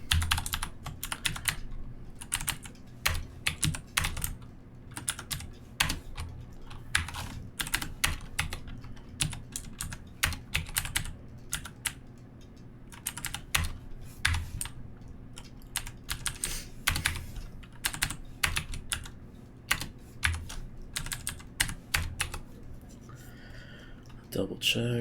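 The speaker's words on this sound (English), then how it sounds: "So let me type this in quick." Python code being typed on a computer keyboard, fast irregular clusters of close key clicks and taps running continuously with brief pauses, no voice over them.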